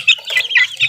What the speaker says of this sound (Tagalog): tandang